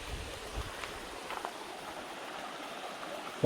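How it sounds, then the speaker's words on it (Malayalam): Steady, soft rushing of a rocky river flowing outdoors near Meppadi, a continuous watery wash with faint splashes and no voices. "പാറക്കൂട്ടങ്ങൾ നിറഞ്ഞ ഒരു പുഴ"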